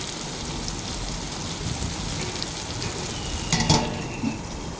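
Onions fry in a pan with a loud, continuous, hissing sizzle, close up, with a brief clatter of stirring near the end.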